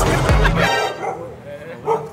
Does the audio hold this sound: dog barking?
yes